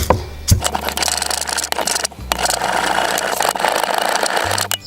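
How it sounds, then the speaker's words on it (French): A grinder runs continuously, pulverising dried sage and verbena into powder, with a steady dense whirr that dips briefly near the middle before resuming at full strength. "Donc je vais broyer le tout."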